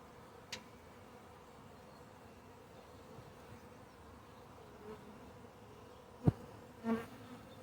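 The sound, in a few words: honeybees fanning at the hive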